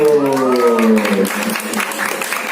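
Applause rises from the audience at a press conference, a strong wash of clapping that is mixed with a voice at the start and then softens to a scattered patter.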